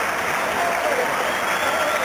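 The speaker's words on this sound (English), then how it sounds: "and everyone in the building clapping him home." Building-wide applause from spectators at a 1990 Commonwealth Games swimming race as a swimmer sprints to the finish, a dense, steady wash of clapping throughout with faint crowd voices mixed in.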